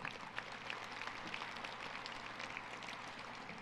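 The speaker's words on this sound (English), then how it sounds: "Let's give a round of applause to that man" Steady applause from an audience at an award event, dense and continuous clapping with a rain-like patter throughout the whole stretch, no voices rising above it.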